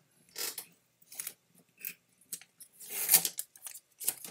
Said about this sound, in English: when you pull off tape, don't pull it straight back